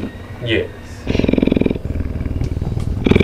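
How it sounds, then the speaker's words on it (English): A cat purrs close up in a rapid, rhythmic, throbbing rumble that starts after a moment and continues steadily, with a person's voice speaking briefly at the start. "now it's purring"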